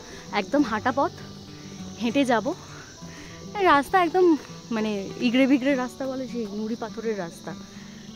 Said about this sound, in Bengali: চারপাশে একটা ঝিঝি ডাকছে, যেটা পাহাড়ে জেনারেলি ডাকে।